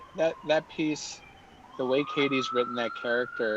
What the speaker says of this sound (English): Sorry about the sirens and the ice cream truck outside as well,